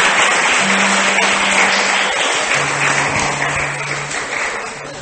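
Congregation applauding in a church service, a sustained, full wash of clapping from a large group that slowly tapers, with a faint steady tone underneath.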